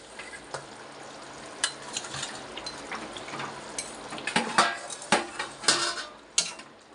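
Pieces of rohu fish hitting hot oil in a pan sizzle softly, while sharp metallic clinks and scrapes of a utensil against the pan ring out, growing busier and louder toward the end.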